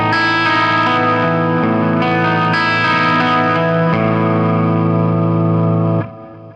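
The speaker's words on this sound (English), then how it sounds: "This is the clean sound, and this is the bridge pickup on humbucker." A Music Man Y2D guitar with a Seymour Duncan P-Rails bridge humbucker plays a clean sustained chord passage, rich with harmonics and chorus-like shimmer. It rings steadily and loud for about six seconds, then cuts to a fading tail.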